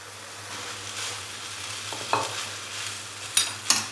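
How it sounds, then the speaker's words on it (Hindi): Boiled Maggi noodles being stirred into fried masala and vegetables, a soft steady sizzle beneath scraping strokes of a spatula, with a few sharper clinks of the utensil against the pan toward the end. "तो अभी मैं इसके अंदर बॉईल की हुई मैगी नूडल्स डाल दूंगा"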